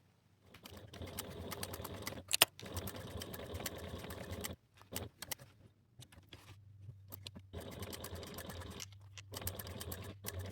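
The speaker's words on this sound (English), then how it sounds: "take this now to your machine and top stitch at a 1/8 seam allowance along the sides and bottom edges of your zipper pocket" A sewing machine top-stitches a faux leather zipper pocket in steady rapid runs, stopping and starting several times with brief pauses and small clicks between bursts.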